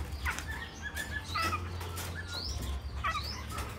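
A caged laughingthrush (khướu) calling with short rising whistles and chirps, mixed with brief wing-flapping rustles, close and fairly loud over a low background rumble, no talking.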